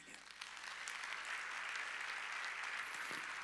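A church congregation at a Wednesday worship service claps together in a sustained burst of applause, even and somewhat distant in the hall.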